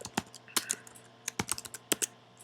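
Rapid, uneven keystrokes on a computer keyboard while working in an Excel spreadsheet, close and crisp with short pauses between bursts, no speech.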